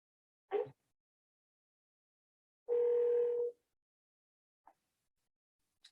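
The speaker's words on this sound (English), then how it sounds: "First, I'm going to dial myself again." Telephone dialing to set up a three-way call: a short beep, a steady tone lasting nearly a second, then two brief blips, all fairly faint against silence.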